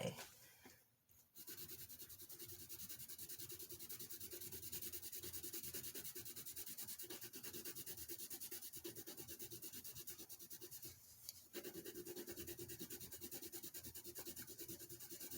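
Colored pencil from a Kalour 240-piece set rubbing across plain sketch paper in steady, continuous strokes, a soft close scratchy grain with a brief pause near the start and another short break later.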